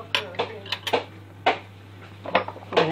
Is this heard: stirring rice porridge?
yes